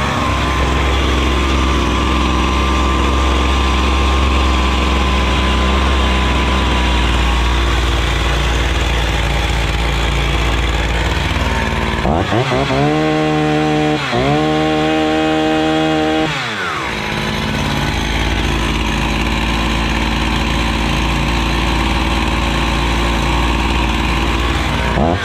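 A Husqvarna 61 chainsaw engine runs steadily at idle during carburettor adjustment after a fuel hose change, loud and continuous, with a brief dip and shift in tone midway before settling back to its steady drone.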